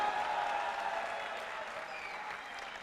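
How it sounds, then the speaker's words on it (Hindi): A crowd at the National Volleyball Championship semi-final applauds the players, a dense, steady roar of clapping that fades slightly over its length, heard from a distance in a large arena. "मैं सारे क्राउड से कहूं कि इन सब खिलाड़ियों के लिए तालियां हो जाएं जी"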